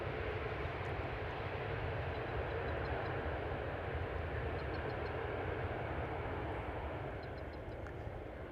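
Air Malta airliner arriving at Amsterdam Schiphol Airport, a broad, steady engine roar held at a moderate distance that sustains evenly and eases off slightly at the end.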